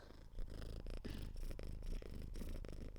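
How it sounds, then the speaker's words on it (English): A cat purrs close up, a soft rhythmic rumble pulsing with each breath in and out, with no talking. "can you hear the purring? We've got a little cat."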